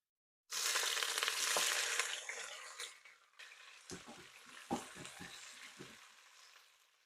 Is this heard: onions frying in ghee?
yes